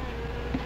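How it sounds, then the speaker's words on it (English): A brief, close buzzing of wasps, a low droning hum with a slight swell near the end. "Wasps, you better be careful. They can sting a man to death."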